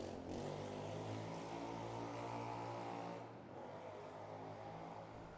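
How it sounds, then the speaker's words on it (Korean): A loud motorcycle engine roaring on a street near Jangsan Station in Haeundae, Busan, a steady droning growl that eases off partway through. "오토바이가 굉음을 내며 달려갑니다."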